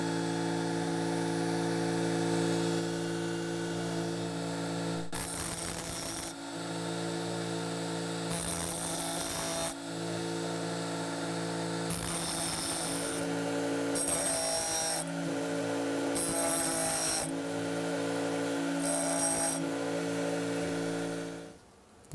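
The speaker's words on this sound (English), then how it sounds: "so I'll sharpen this up." Teeth of an oscillating multi-tool blade are sharpened with a Tiger's Teeth sharpener, giving a steady high-pitched grinding hum broken by repeated short, harsh rasping bursts, close and clear with no talking.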